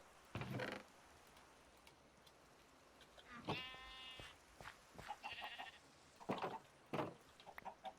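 Sheep in the Minecraft video game bleat in two clear calls with a harmonic, wavering tone, set against a soft rain-like hiss and scattered short game sounds.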